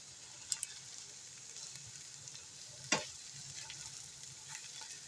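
Onions fry over medium heat as a utensil moves them around the pan: a faint, low sizzle with a couple of quick clicks at the start and one sharper scrape partway through, with no talking.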